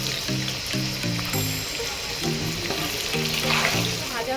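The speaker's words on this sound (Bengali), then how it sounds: "আলুর মধ্যে একটু লবণ দিয়ে দেবো আর একটু হলুদের গুঁড়ো দিয়ে আমি আলুটা লাল লাল করে ভেজে নেব।" Potatoes with salt and turmeric powder frying in oil, giving a continuous dense sizzle, with a repeating tonal pattern laid over it.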